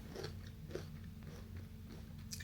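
Biting into a thin wafer biscuit with a dried apple piece in the center gives several crisp, close crunches. Soft chewing follows, with no talking.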